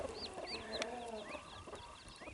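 A hen clucks softly near her four chicks on a working poultry farm, with high peeping chirps from the chicks over quiet outdoor ambience.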